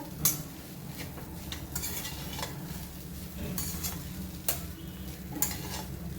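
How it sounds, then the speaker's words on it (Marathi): Poha (flattened rice) for kande pohe is stir-fried in a pan, with a steady soft sizzle under repeated scraping stirs and occasional sharper clinks of the spatula against the pan, close and moderately quiet, with no talking. "आता आपण एक दोन मिनिटे पोहे परतवून घेऊया"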